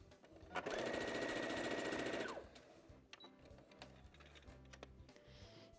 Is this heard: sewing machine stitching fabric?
yes